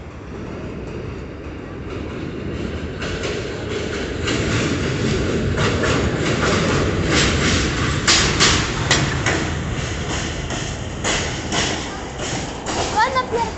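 A New York Q subway train rides the rails between Brighton Beach and Kings Highway, a steady loud rumble with repeated clicking and clacking of wheels over track joints, while people talk nearby.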